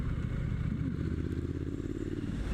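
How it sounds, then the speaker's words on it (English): A Triumph Street Scrambler motorcycle engine runs close by with a steady, deep, grunty exhaust rumble that holds even throughout, with no voices. "That engine sounds amazing. You get that whirl, you get that whistle, the Triumph whistle"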